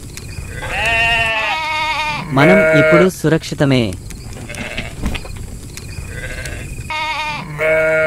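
Lambs bleat loudly in a Telugu film scene about David and Goliath, several wavering cries repeating close by, with someone speaking between them.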